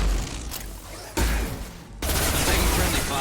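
Sci-fi gunfire in the game Mass Effect 2, loud bursts of shots and booms cutting in abruptly, dropping away, then resuming in a sustained rattling barrage.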